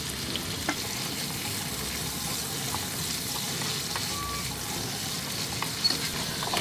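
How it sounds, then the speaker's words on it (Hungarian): Bacon sizzles steadily in hot olive oil in a pan while carbonara is being made, a continuous close crackling hiss with occasional louder pops and no talk. "Forró olajban lepirítjuk."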